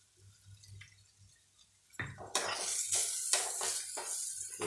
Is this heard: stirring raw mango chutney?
yes